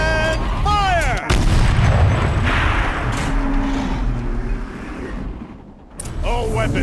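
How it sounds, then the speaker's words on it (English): A heavy turret fires in Horizon Zero Dawn with a loud booming blast, followed by a rumbling mechanical wash and a second impact near the end, while a commanding voice shouts over part of it. "Rotate turret! And fire!"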